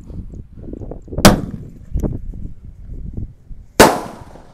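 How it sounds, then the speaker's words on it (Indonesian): Two sharp, loud blasts from a langmas firecracker set off at a Ramadan evening gathering, the first bang low and the second higher in the air, a few seconds apart over a steady murmur of background noise. "ini ada mercon langmas. Ini meledosnya 2 kali di bawah dan di atas."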